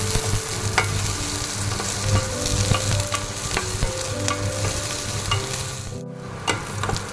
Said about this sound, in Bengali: তারপর ফোড়নে দেব গোটা জিরা, শুকনো লঙ্কা, রসুন কুচানো আর পেঁয়াজ দিয়ে দিয়েছি।